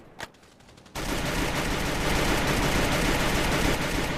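Gunfire in a first-person shooter video game: a single early shot, then a loud, sustained rapid-fire burst that continues unbroken to the end, with no voices over it.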